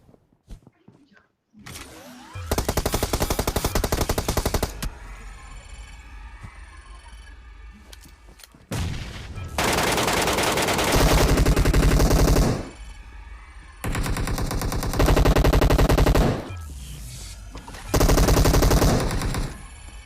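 Several loud, rapid bursts of MK rifle fire in PUBG Mobile crackle out in separate volleys, each lasting a couple of seconds, with quieter gaps between them.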